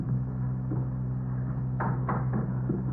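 A door is opened in an old-time radio crime drama, a couple of brief wooden clunks and a latch rattle heard over a low steady hum.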